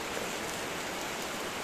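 Steady rain falls on grape vines under a UV plastic roof, with spray blowing in past a loose gutter. The hiss is dense, even and continuous and stays at close range the whole time.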